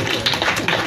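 A conference panel audience on land policy applauds, with a dense, steady patter of many hands clapping close by throughout the short moment.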